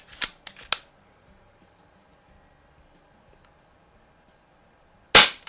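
Umarex Notos air rifle fired over a Caldwell chronograph: a few quick sharp clicks and snaps, a long quiet pause, then one loud, crisp shot crack at close range.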